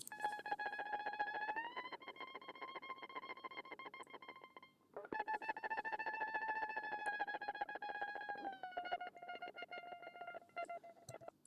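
Dry, unprocessed guitar with the amp rack bypassed in Cubase Elements: a thin, sustained tone holding steady notes with a short break midway, faint and alone without talk.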